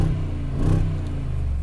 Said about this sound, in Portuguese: Mais uma aceleradinha aqui, ó. Liguei o escape mesmo com o diferencial blocado e ele entrega o borbulho